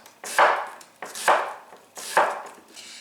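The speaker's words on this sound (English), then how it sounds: "cut the onion into half moons using a claw grip" A knife cuts an onion into half moons on a board using a claw grip, three sharp chopping strokes at roughly one-second intervals, each with a crisp knock and a brief crunch, close and clear with no talk.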